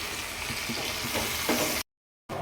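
Steady, loud sizzling of lentils frying with onion, green chili and turmeric in a village kitchen, with a few stirring scrapes, then a brief cut to silence before the sizzle returns.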